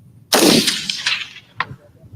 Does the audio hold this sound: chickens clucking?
no